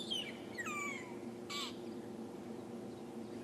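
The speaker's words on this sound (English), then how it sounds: "there's also a family of magpie shrikes that are chirping away, making a fierce racket for their dawn chorus" Magpie shrikes in a dawn chorus on an African safari give a few quick whistling chirps in the first couple of seconds, moderately distant, over a steady low outdoor rumble.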